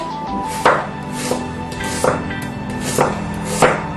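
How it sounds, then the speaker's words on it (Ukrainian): Knife slicing onion into half rings on a cutting board, four or five crisp separate chops at an unhurried, roughly even pace, close and clear against a quiet kitchen background. "цибулю ріжемо півкільцями"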